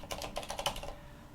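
Fast burst of typing on a computer keyboard, a dozen or so crisp, close key clicks packed into about a second, then quiet.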